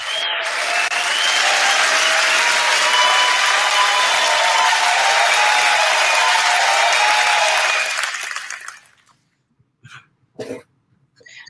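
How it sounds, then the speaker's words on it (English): Sustained, loud applause from a large audience fills most of the stretch, then fades out, leaving a few scattered coughs and small noises. "I love the clapping."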